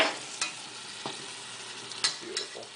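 Tomato sauce for chicken cutlet parmesan stirred in a pan as it cooks, giving a few soft scraping strokes spaced over a quiet simmering background.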